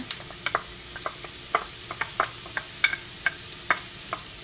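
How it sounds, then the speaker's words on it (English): Poblano peppers cook in a pan with a soft, quiet sizzle, broken by light taps and scrapes from occasional stirring. "And so I have 1 cup of poblanos here. Get these cooking."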